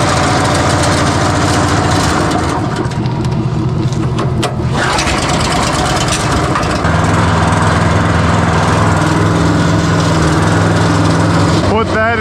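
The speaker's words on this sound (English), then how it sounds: "I hate the sound of air compressors though" An air compressor runs steadily and loudly throughout, a dense motor drone that shifts in pitch partway through, with no voices over it.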